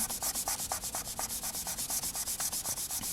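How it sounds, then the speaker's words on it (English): Polymer clay cane slices are burnished together, giving a rapid, even run of close rubbing strokes with a soft scratchy texture, about seven strokes per second. "Again, give it a good burnish to stick them together,"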